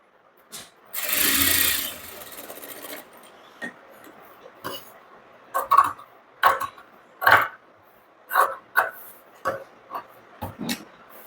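A sewing machine stitches a princess-cut blouse: one longer run of whirring near the start, then a series of short, separate bursts of stitching, close and moderately loud.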